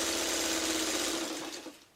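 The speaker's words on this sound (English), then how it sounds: "I'm just sewing a few, the stuff that's going to come up instead of waiting" A sewing machine stitches pieces of quilt-block fabric with a steady close-up whir that runs without a break and then slows and stops near the end.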